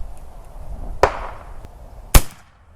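Two sharp gunshots from a plinking gun at a shooting range, about a second apart, the second louder and closer, with quiet background noise in between.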